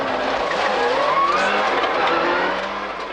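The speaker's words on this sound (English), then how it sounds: "let loose in Colin McRae's 300 horsepower World Rally car." Colin McRae's 1997 Subaru Impreza WRC rally car, 300 horsepower, driving hard and close, engine roaring continuously with rising revs and tyre scrabble and skids throughout.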